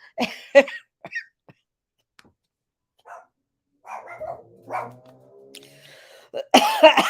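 Several short, sharp coughs come in bursts, a pair near the start and a loud cluster at the end, with quiet gaps and faint murmuring between.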